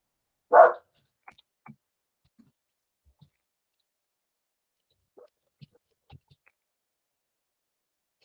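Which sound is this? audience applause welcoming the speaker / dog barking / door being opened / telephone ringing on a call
dog barking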